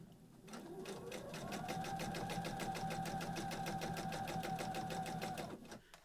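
A sewing machine stitches the side seam of a fabric storage caddy, starting up and running at an even, rapid rhythmic whir for about five seconds before slowing to a stop, faint and close with no talk.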